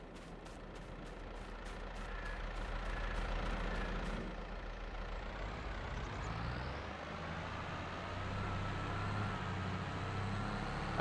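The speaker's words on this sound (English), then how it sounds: "So let's fire up. We'll probably use the John Deere for this bit." A John Deere tractor engine in a farming game starts with a quick series of cranking pulses, then settles into a steady low diesel rumble that keeps running near and even.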